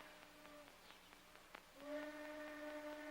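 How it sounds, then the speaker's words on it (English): A faint, distant whistle holds steady tones, fading out then returning with a stronger, sustained blast over quiet background hiss. "Train whistle."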